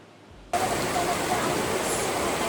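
Fresh mountain spring water flowing forcefully into Port Vila, Vanuatu, a steady broadband rush that cuts in abruptly after a brief quiet start and then holds loud and constant.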